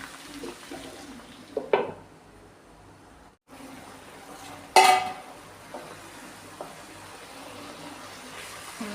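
Vegetables seasoned with turmeric and salt get stirred in a pot for a simple Kerala lunch, making sparse metallic clinks and scrapes over a soft sizzle, with a couple of sharper knocks and quiet gaps between.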